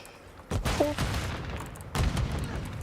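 Two heavy grenade blasts in a first-person shooter video game, each a loud, sudden boom with a rumbling tail, arriving about one and a half seconds apart.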